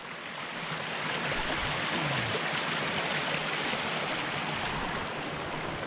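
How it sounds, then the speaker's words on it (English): A small mountain creek along a steep trail section of a long-distance thru-hike flows with a steady, broad rushing wash that stays even and close for the whole stretch, with no voices over it. "All right, so that's the little creek"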